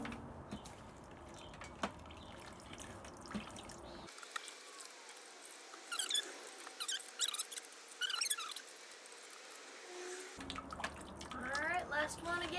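Water drips and trickles from hand-washed laundry fed through a wringer into an empty bucket, an irregular close patter of drops with squeaky mechanical sounds, then a quieter stretch of drips.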